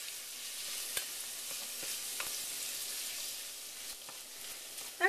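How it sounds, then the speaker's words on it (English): Ginger, garlic and spices frying in a pan for homemade ketchup give a steady, soft sizzle with a few light clicks of stirring, heard alone without talk. "And we're going to cook this for about 1 minute."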